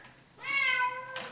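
A cat meows once, a clear drawn-out cry close by, in a kitchen while grains are being mashed for a homebrewed pale ale; a short soft rustle follows.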